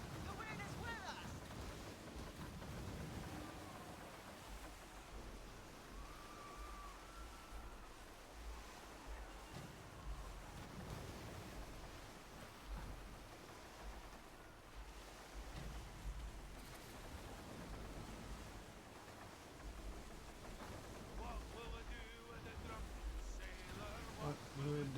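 Sailing ship cutting through ocean waves with wind roaring across the sea in the game Skull and Bones, a continuous low wash of surf and gusts filling the background.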